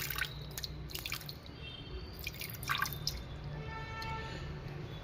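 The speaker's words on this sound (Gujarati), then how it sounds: "ગ્રામ ખાંડમાં 200 ગ્રામ પાણી નાખશું" Water trickles and drips into a pan of sugar, about 200 grams over 400 grams, to start a syrup for coconut kopra pak; scattered close drips and small splashes over a quiet room, no voices.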